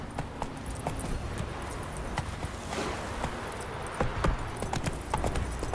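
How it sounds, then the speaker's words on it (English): Horse hooves clip-clopping at a walk in the Witcher 3 video game, a steady run of light, evenly spaced hoof clops under faint game ambience with no talk. "Go, Giddy go, up. go, go, go. Not so fast, Roach"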